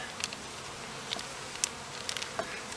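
Honey bees buzzing around a hive while being fed sugar syrup, a steady soft hum with a few individual bees droning close by in brief passes.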